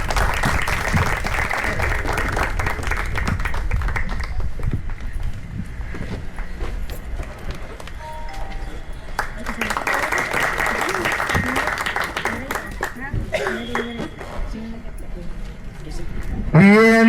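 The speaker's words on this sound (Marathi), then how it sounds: "टाळ्या वाजा." An audience at a get-together felicitation ceremony claps steadily to welcome a teacher to the stage, with voices talking over it and some tonal music nearby.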